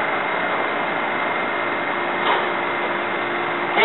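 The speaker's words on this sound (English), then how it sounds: "so I'm going to turn on the fan because they're hot" A kitchen exhaust fan runs with a steady, loud whooshing drone, with a couple of faint clicks and bumps over the top.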